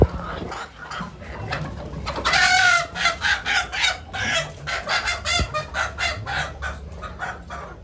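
Chickens and roosters on an egg-laying poultry farm, clucking and cackling in a busy, rhythmic chorus of repeated calls, fairly close and loud, with no talking over them.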